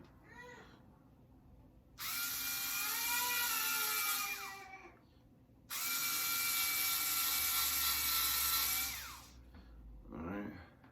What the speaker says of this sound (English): Let me try to drill a hole.